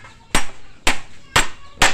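Hammer blows on a nail in a bamboo painting stand: four hard, evenly spaced strikes, close and loud, with a short woody ring after each.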